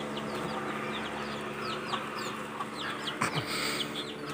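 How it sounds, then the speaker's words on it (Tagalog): A rooster, just after fighting a duck, gives repeated short clucks and squawks over a noisy farmyard background, with a few sharper bursts toward the end. "Grabe talaga tong tandang na to."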